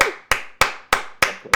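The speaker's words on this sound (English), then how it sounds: "Clap it up for us." Five slow, sharp hand claps at an even pace, close and distinct with short decays between them, ending a podcast segment.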